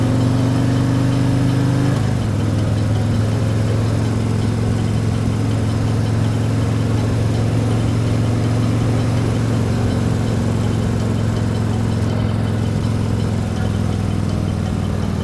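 The engine of a Newmar Canyon Star RV idles at a traffic light with a steady low drone and a slight shift in pitch early on, then holds an even rumble throughout with no voices.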